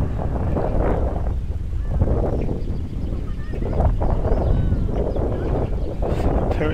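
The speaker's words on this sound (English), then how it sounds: "Perishing wind has come right round between the flats now." Wind buffets a microphone outdoors between blocks of flats while a small pod-and-boom powered glider flies, a steady rough roar with gusty swells and no speech heard.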